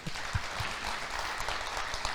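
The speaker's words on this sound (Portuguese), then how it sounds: "Aplauda o Senhor." A church congregation applauds in a close, lively burst of clapping with several distinct hand claps punching through a continuous wash of applause.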